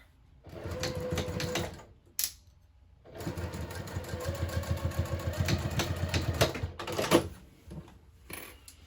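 Sewing machine stitching a bag lining seam, two runs of fast, rhythmic mechanical whirring separated by quiet pauses, close and fairly soft, with a few clicks in between.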